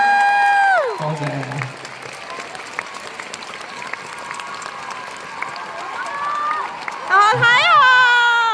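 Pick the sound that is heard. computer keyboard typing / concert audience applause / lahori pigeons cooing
concert audience applause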